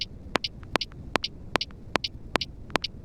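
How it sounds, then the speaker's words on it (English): Lo-fi beat hi-hats nudged a sixteenth later against a metronome: sharp, steady clicks repeat about every 0.4 seconds, each followed closely by a bright hat tick, forming a tight, even pattern with nothing else playing. "And that with the metronome sounds like this."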